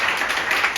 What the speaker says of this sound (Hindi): क्या प्रभु के लिए हम तालियों का भेंट चढ़ा सकते हैं?